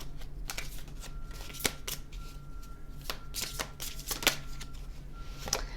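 Oracle cards are shuffled by hand in a series of crisp, close riffles and slaps at an irregular pace over a low, steady hum.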